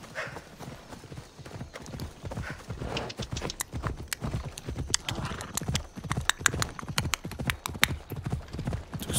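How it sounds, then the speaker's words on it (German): Rapid, continuous hoof clip-clops of a horse in the video game Assassin's Creed Odyssey, close and crisp, in an uneven trotting rhythm with no pauses. "Pferdchen."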